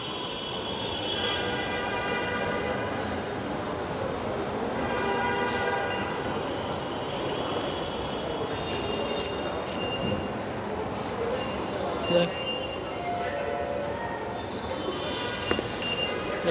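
A metro train at Shahbag station in Dhaka rumbles steadily beside the platform, with tonal whines and squeals from the wheels and motors rising and falling over a constant hum.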